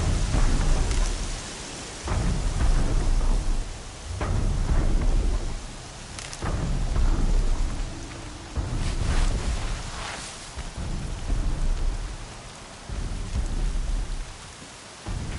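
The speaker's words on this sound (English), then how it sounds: "Rain's too loud to hear much." Heavy rain pours steadily in the video game Horizon Zero Dawn, with rolling thunder rumbling in repeated low swells throughout. The storm is loud and continuous, and no one speaks.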